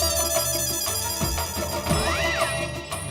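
A telephone ringtone plays electronic melodic tones for a few seconds indoors in a comedy scene, then cuts off abruptly.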